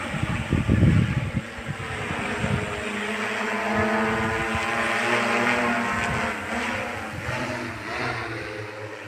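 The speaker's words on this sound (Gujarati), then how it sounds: "ડ્રોનથી દવા છટાય" An agricultural drone spraying pesticide over a pigeon pea field gives a steady, buzzing rotor whine close by, its pitch wavering slightly, after a short clattering rumble at the start.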